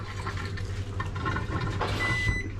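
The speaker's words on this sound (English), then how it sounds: "Why does that sound like it's putting water back into it?" Water running into a washer-dryer machine as it fills, a steady close rushing and trickling wash with faint electronic tones, a few mechanical clicks and a short beep near the end.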